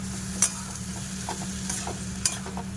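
Poppy seed paste being stirred in a pan for a Bengali potato-poppy seed dish, a steady low sizzle with a few soft scraping strokes and two sharp utensil taps on the pan; no voices.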